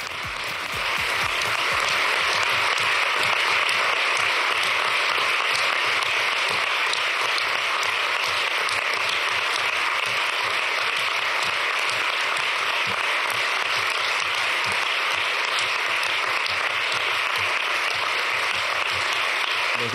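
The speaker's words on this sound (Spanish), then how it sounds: "Los diputados y senadores están en la sala Ernest Lluch, aplauden a Pedro Sánchez" Sustained applause from PSOE deputies and senators in the Ernest Lluch hall of the Spanish Congress for Pedro Sánchez, a dense, steady wash of many hands clapping throughout, with no voices standing out.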